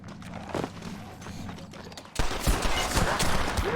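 A sudden burst of rapid gunfire in the video game Red Dead Redemption on Nintendo Switch erupts midway, loud and dense, cutting in after a stretch of busy background noise.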